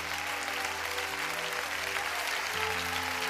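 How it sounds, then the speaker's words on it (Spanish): A church congregation applauds in a dense, steady wash of clapping that holds for several seconds, while organ or keyboard tones sustain quietly beneath it. "Dale un aplauso grande"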